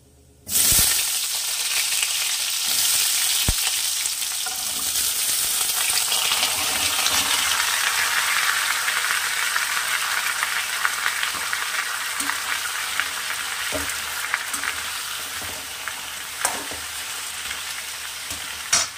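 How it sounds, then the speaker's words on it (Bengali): Cut vegetables hit hot oil in a pan with bay leaf and sizzle loudly and steadily, with occasional scraping and clinks as they are stirred. "এইবারে দিয়ে দেব কেটে রাখা সবজিগুলো।"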